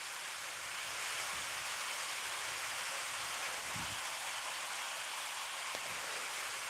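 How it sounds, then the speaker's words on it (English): Steady rain falls outdoors at a forge, a constant broadband hiss of drops on surfaces with a couple of faint low thumps, no voices. "So y'all can hear me even over the rain."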